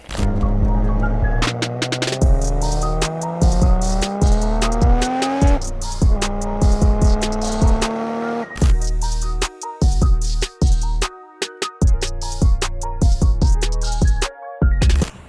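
A Nissan Skyline R34 with an LS engine swap revs and accelerates loudly up through the gears, pitch climbing and dropping with each shift, close and continuous with no talking.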